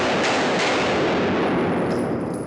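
Glock pistol shots ring out as a dense, loud burst of rapid gunfire echoing at close range, the cracks blurring into a continuous roar that eases slightly at the end.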